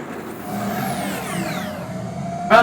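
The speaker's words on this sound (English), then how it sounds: "Oh, that's a car." A car speeds past in a Metal Gear Rising cutscene, its steady engine drone rising and falling in pitch as it passes, followed by a short sharp burst of noise at the end.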